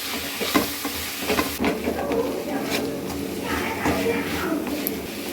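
A spoon stirs momo filling seasoned with salt and Manchurian masala in a pan, giving scraping clinks and a soft sizzle that continue steadily at moderate level.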